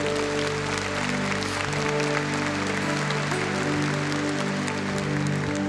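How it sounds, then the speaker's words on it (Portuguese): A church congregation claps loudly and steadily during a prayer service, a dense, even wash of applause with a low hum beneath and no speech over it. "Aplauda forte."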